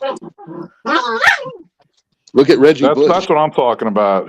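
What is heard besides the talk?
dog barking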